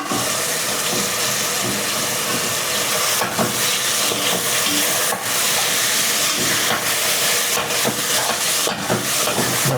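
Food frying in a pan for bean soup (loviyali sho'rva), a loud, continuous close-up hiss of sizzling oil with frequent crackles and sharp pops, no voices.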